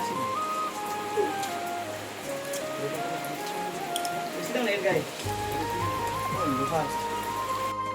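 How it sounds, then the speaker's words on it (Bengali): Steady rain hisses throughout, with a voice talking over it the whole time. "হঠাৎ করে বৃষ্টিটা কেমন নেমে গেল।"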